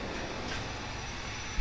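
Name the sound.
semi-truck pulling in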